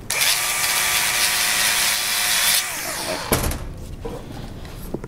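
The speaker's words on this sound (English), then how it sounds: "I'll just do a quick grind and test it for carbon." A handheld power grinder runs against the surface of a steel sample for about three seconds, a loud close whine with a steady tone, then winds down, followed by faint handling clatter.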